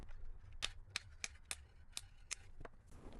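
Guitar strings on a Tune-o-matic guitar are snipped with cutters, about eight crisp metallic clicks in quick irregular succession, close and quiet.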